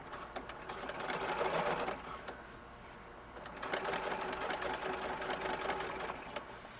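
A sewing machine runs steadily, top stitching a seam on white fabric for a red coat outfit. The close, whirring mechanical drone with a fast needle rhythm swells and eases slightly over two continuous runs.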